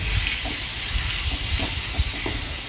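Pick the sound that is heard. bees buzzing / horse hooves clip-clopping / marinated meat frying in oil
marinated meat frying in oil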